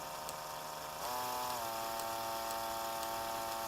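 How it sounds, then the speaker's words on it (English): A power drill spinning wire to make a fused Clapton coil whirs steadily, its motor pitch rising as it speeds up after a second, then holding a constant mechanical whine. "You don't want to spin your drill"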